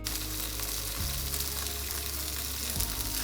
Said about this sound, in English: While we're frying up this tofu